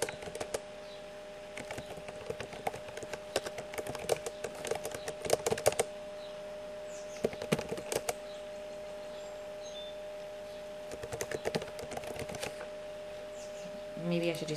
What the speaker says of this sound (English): I'm going to type the sentence